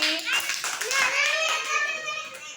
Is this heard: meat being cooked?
no